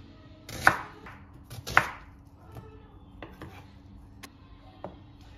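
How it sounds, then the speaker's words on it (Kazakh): An onion is chopped into large pieces, two sharp knife strikes hitting the board near the start, followed by a few lighter, scattered cuts and taps. "Пиязды кесек бөліктерге бөлеміз"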